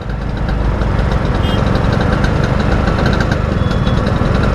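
Classic Vespa scooter engine revving steadily during a night ride, a continuous loud, close mid-pitched putter with slight throttle swells and no pauses.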